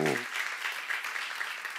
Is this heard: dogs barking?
no